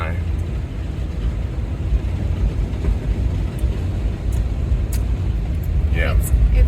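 A car drives slowly through a deeply flooded street, giving a steady broadband rumble of engine and water surge that carries on throughout at a constant level, with brief faint sounds near the end.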